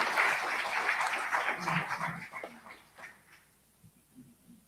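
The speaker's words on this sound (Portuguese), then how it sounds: "peço-vos a segunda salva de palmas" An audience applauds at a book launch, a dense burst of clapping that thins out and fades over the last seconds, leaving a few scattered claps and quiet room sound.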